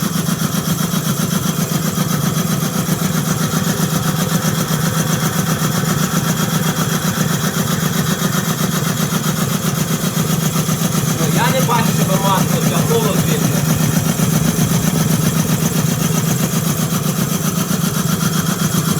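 Steady mechanical hum of an air compressor's electric motor soft-starting and running continuously at nominal speed, close and loud, with brief muffled talk partway through.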